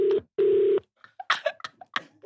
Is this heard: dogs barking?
no